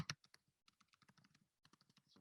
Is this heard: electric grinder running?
no